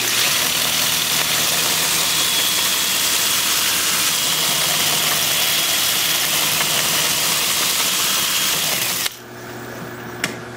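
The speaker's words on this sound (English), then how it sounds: "And then I'll reverse the lathe and stand on the tailstock side." A woodturning lathe spinning in reverse gives a loud, steady motor hum and whir for about nine seconds, then drops abruptly to a quieter hum.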